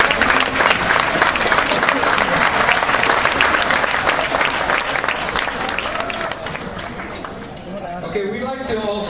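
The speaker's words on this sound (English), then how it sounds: "Let's give this folks a big round of applause." Sustained audience applause fills a large room at a hospitality association's bosses night event, loud and dense clapping continuing throughout before fading slightly, with a voice speaking faintly near the end.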